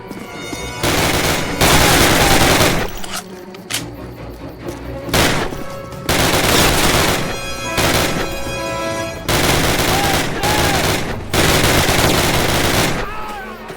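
Loud, heavy machine gun fire in the video game Call of Duty, long rattling bursts separated by short gaps, with shouted voices mixed in.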